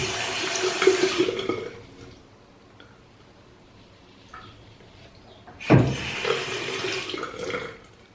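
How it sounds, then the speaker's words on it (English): A shaving razor being rinsed under a running bathroom tap, two bursts of splashing water separated by a quieter gap, the second starting with a sharp knock. "Now when I'm washing the razor, I'm like pushing down here to release the hairs"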